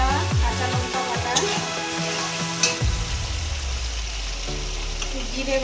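Garlic, ginger and green chili paste sizzles in a hot pan while a utensil stirs and scrapes, with a few sharp clinks early on and a steady hiss that settles into a lower fry near the end.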